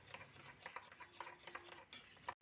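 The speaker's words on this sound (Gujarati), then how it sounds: "હવે એને એકદમ સરસ રીતે હલાવી નાખીશ" Spoonful of milk powder being stirred into milk, a quiet run of light spoon clinks and scrapes against the vessel, several soft taps spread across a couple of seconds, no voices.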